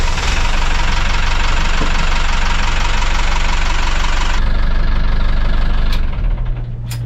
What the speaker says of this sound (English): 170 horsepower YANMARs. Let's fire them up.